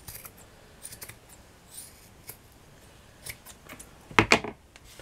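Scissors trimming material for a handmade hanging stickpin holder, faint scattered snips and rustling at close range, ending in a couple of louder, sharper cuts near the end.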